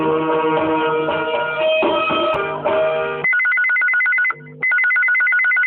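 A telephone rings for a radio call-in show, a loud electronic ringtone with a steady repeating pattern that plays alone, close and clear, with a brief dip before the rings resume.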